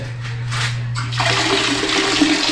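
A toilet flushes in a resort bathroom in Quezon, a steady close rush of water that swells partway through and keeps churning to the end, with no talk over it.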